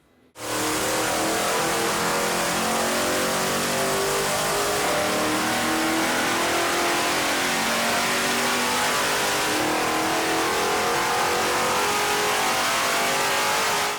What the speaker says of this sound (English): with the stock manifold, you know, really this thing sounds almost like an old Chevy pickup